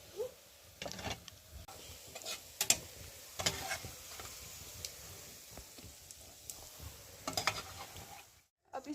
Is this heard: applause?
no